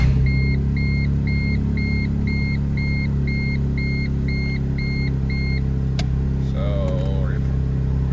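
Smart 451 with a newly adjusted clutch actuator and fresh gear oil idling on a test drive, a steady low engine drone under a repeating electronic chime, followed by another brief warbling beep.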